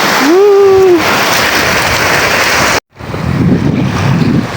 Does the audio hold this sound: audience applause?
no